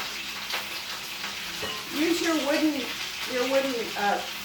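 Stir-fried beef and snap peas sizzle in a pan while a wooden spoon stirs them, a soft steady frying hiss with light scraping, partly under a person talking.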